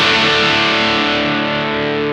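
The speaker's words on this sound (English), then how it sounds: "Also listen to the overtones, how they come." A heavily distorted electric guitar rings out on a sustained note, its bright overtones stacking richly above the fundamental, loud and alone as the tone slowly decays.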